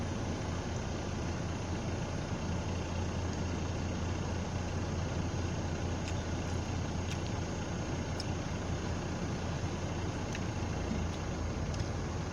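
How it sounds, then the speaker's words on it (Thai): A car engine idles with its air-conditioning fan running, giving a steady, continuous low hum and a whooshing fan noise throughout, close and unchanging, with no talk. "มีเสียงรถ เสียงเครื่องรถเสียง พัดลมแอร์ ทำงานรบกวน"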